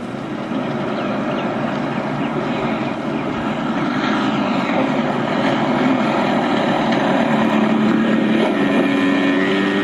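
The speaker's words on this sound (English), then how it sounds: "I was flying a quarter-scale, remote-controlled model airplane" A quarter-scale remote-controlled model airplane flies overhead, its small propeller engine giving a steady, loud droning buzz that holds for the whole stretch with slight shifts in pitch.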